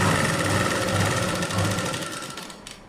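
A sewing machine stitches a 36-inch blouse in a continuous close, loud run of rapid needle chatter and motor hum that tapers off near the end.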